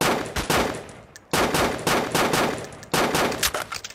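Automatic gunfire in the shooter game Weapon comes in three long, loud bursts of rapid shots, each a little over a second, with brief gaps between bursts and no talking.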